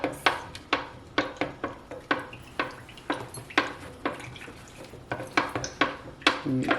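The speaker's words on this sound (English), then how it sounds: "now let's go ahead and stir everything together" Metal utensil scraping and clanking against a pot of shrimp boil in a quick irregular rhythm, close and clear, with no talking.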